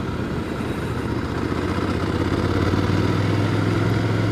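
An older-version Ducati Scrambler 800 Icon engine running while riding: a steady, close, loud mechanical drone with a low throbbing rumble that builds slightly, without voices.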